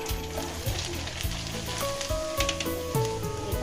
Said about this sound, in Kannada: ಕಾಯಿಸಿದ ನಂತರ ಇದನ್ನ ಹಾಕಿ ಈ ಥರ ಹುರ್ಕೋಬೇಕು.